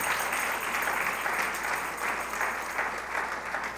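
A church congregation applauds in praise, an even, sustained roar of many hands clapping at moderate distance with no speech over it.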